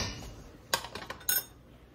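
Metal spoon clinks against a glass jar a few times while scooping honeyed apricot jalapeño jam from an overfilled jar, with two sharp close taps and softer scrapes in between, no talk.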